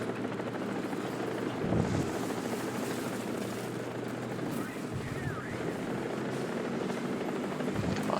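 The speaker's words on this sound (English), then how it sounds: "Helicopters. Oh, multiple helicopters." Several helicopters in the War Thunder video game fly nearby during a T-64A tank battle, making a loud, continuous rotor drone and thrum that fills the scene, with occasional faint impacts underneath.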